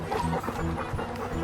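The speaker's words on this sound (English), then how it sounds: "My friend Casey and her boyfriend Reed brought their 3 dogs over who are best friends with my dog" Several visiting dogs move about close by, with short soft yips, whimpers and panting bursts in quick irregular succession.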